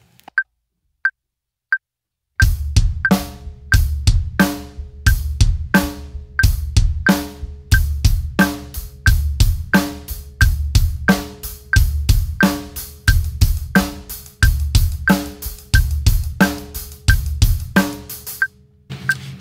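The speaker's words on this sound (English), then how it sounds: "Now we'll just do 2 bars of quarter notes, 2 bars of 8th notes, 2 bars of 16th notes." Drum kit played to a click, starting with a few isolated click ticks, then steady bars moving from quarter notes to eighth notes to sixteenth notes, each kick, snare and cymbal hit sharp, close and loud with no talking over it.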